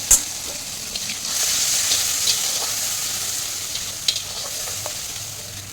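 A mixture of turmeric, cumin powder, coriander powder and salt hits hot oil with a bright, steady sizzle and hiss. A few faint stirring clinks sound over it, close by and without speech.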